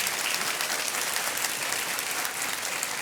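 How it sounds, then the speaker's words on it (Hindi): Studio audience applause on the quiz show Kaun Banega Crorepati, a continuous, even wash of many hands clapping from a close crowd, with no talking over it. "तालियां बजती रहने चाहिए नेहा और अमन के लिए।"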